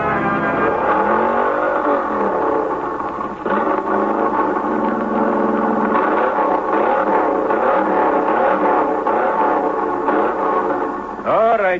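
Car engine revving hard at full throttle in an old-time radio drama, a sustained loud roaring drone with rising and falling pitch sweeps, voices talking over it.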